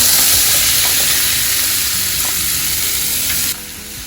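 Chopped apples hit browned, caramelized butter in a pan for an apple crumble, giving a loud, steady, close sizzle and hiss that drops off sharply near the end.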